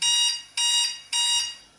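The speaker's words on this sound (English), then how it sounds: "There's a little alarm that says" A kitchen timer alarm going off during home brewing of Coopers ale yeast, three loud, close, repeating electronic beep bursts with short gaps between them.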